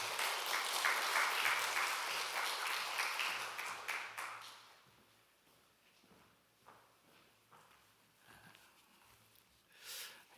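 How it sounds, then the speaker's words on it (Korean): Church congregation applauding to welcome a preacher, dense steady clapping for about four seconds that fades out, followed by quiet room noise and a brief soft burst near the end. "우리 감사의 박수로 우리 맞이해 주시면 감사하겠습니다"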